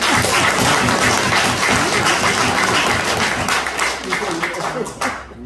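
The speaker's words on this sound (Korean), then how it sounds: "박수 한번 쳐주세요" A seminar audience bursts into loud, dense applause of many hands clapping together, sustained for several seconds and then thinning and fading out near the end.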